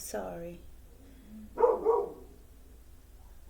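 A dog indoors gives a quick pair of barks partway through, brief and moderately loud, with a person speaking softly before it.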